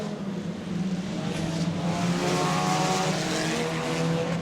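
Race cars lapping the track at Orlando Speed World during a Hell on Wheels event, a dense, continuous roar of several engines droning and revving together, loud and steady throughout.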